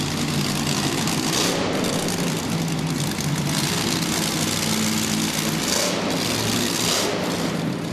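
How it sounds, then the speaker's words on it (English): Monster truck running a 514 Ford engine with a C6 transmission, a continuous, loud, rumbling engine note that holds steady at a fairly even idle-like level with slight swells. "The truck was just purchased from Tim B in July, running a 514 Ford engine with a C6 transmission."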